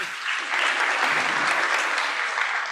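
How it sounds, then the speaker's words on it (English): Continuous applause from an audience at a panel talk on AI and health, a dense, even wash of clapping lasting the whole moment without voices over it. "I think we can clap"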